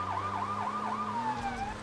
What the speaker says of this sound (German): Ja, mach die Sirene wieder aus.